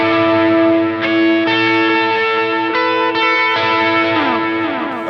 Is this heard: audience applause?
no